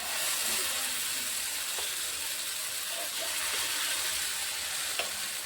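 Batter of sprouted moong and peanuts frying in oil on a pan, a steady soft sizzle with a few faint clicks and one brief tap near the end, no talk.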